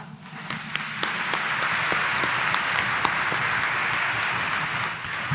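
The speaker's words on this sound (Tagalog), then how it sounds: "ang aming debosyon sa Poong Jesus Nazareno, pumalakpak pa ng mas malakas." A Catholic church congregation at a Mass honouring Jesus Nazareno bursts into loud, sustained applause, a dense wash of many hands clapping with a few sharper individual claps, building and holding steady throughout.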